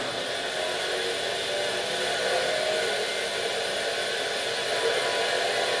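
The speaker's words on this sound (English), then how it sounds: "The igniter will ignite." Pellet heater starting up as its igniter runs, giving a steady blower-like hum and hiss that stays even in loudness throughout, moderately loud, with no speech.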